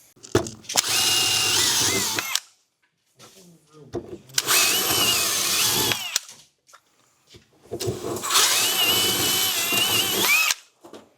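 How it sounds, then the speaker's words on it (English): A power drill boring pilot holes through a car floor whirs in three loud bursts of about two seconds each, separated by brief pauses with small handling noises. "So I'm just going to mark this with a drill bit, drill a pilot hole"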